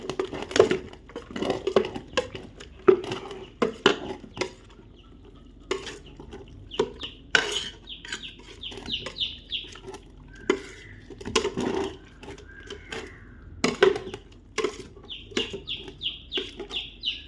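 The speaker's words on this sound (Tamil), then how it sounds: "எல்லாம் போட்டு இதை மிக்ஸ் பண்ண வேண்டியது தான்" Homemade rabbit feed is stirred and mixed, with irregular scraping and knocking strokes against a container, while hens cluck faintly in the background.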